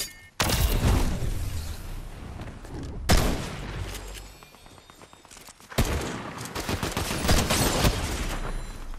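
Gunfire in Fortnite, heavy-recoil weapon: loud bursts of rapid shots in three strong volleys with brief lulls between, dense and continuous, no talk over it.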